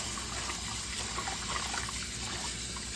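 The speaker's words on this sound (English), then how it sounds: "Okay, you're gonna rinse the rice 3 times." Close, steady sloshing and trickling as rice gets stirred and rinsed by hand in water in a rice cooker pot, with no one speaking.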